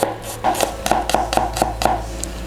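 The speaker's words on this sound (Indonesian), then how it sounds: "Selanjutnya kita mau iris-iris bawang putih" Garlic cloves are sliced with a knife on a cutting board, giving about eight quick, close, evenly spaced chopping taps over a low steady hum.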